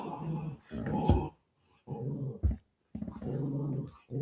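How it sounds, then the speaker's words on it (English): A small dog growls and barks excitedly in loud, close bursts with short pauses between them, indoors. "my little dog is going absolutely bonkers"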